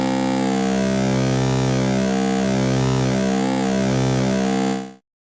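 A sustained, buzzy Kontakt 6 wavetable tone with its waveform reshaped by a quantize morph mode, wavering and slowly undulating at steady loudness for about five seconds before cutting off, with no voices.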